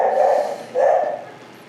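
A neighbor's dog barks outside, two deep, muffled barks heard from indoors with a short pause between them and no talk over them.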